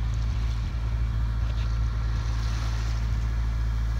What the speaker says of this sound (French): Nous voici sous moteur